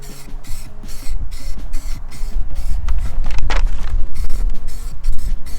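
A rapid series of brief hissing spray-paint bursts lands on a concrete curb, close and fairly loud, with a rumble of passing traffic underneath.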